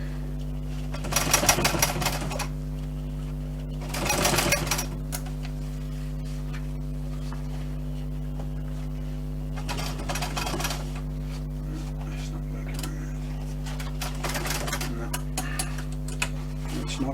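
A sewing machine stitches around the corner of a water bottle pouch for bushcraft in four short bursts of rapid ticking, over a steady low mains hum, with quiet pauses between bursts.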